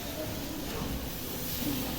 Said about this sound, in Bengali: এই যে মাংস রান্না করতেছি, আলু দিয়ে কষাইতেছি